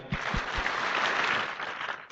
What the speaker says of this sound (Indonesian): Kita beri tepuk tangan Bapak Ibu